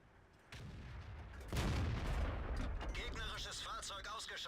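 A 105 mm gun fires from a Sturer Emil German tank destroyer in World of Tanks, a loud sudden boom about a second and a half in that rolls into a sustained rumble, with fainter game effects before it and voices toward the end.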